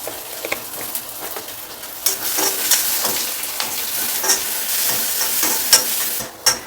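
Whole cumin and coriander seeds lightly roasting in a pan give a steady close sizzle with scraping stir clicks, growing louder after the first couple of seconds, with no talking.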